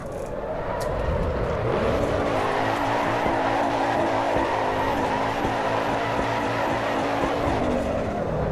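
A car in Assetto Corsa EVO slides under the handbrake, its tires squealing in a long steady skid over a continuous engine drone, loud and close throughout.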